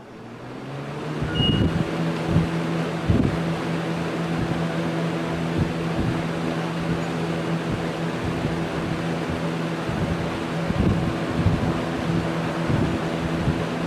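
A garage fan in Lakewood starts up for its first run of 2021, a low hum and steady whirr building within the first second or two into a constant drone with periodic thumps from the blades, airflow rushing across a nearby microphone.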